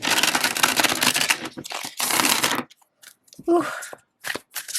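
A tarot card deck being shuffled in bursts of papery riffling and flicking, loud and close for about two and a half seconds, then a few quieter shuffles with a brief spoken exclamation.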